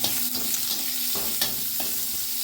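Chopped onion, garlic and two split green chillies fry in hot oil in a pan, giving a constant close sizzle broken by occasional scraping stirs.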